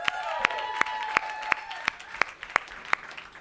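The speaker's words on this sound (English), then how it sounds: "How about another round of applause for these guys?" Concert crowd in Honolulu claps for a band, sharp beats landing in a steady rhythm over a faint lingering instrumental ring, moderately loud and unaccompanied by talk.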